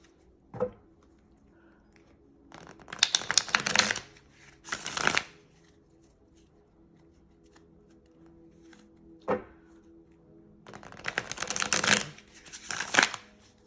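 Tarot cards being shuffled for a reading: a short riffle near the start, then two longer rounds of crisp, rapid shuffling with pauses between them, close and clear in a quiet room.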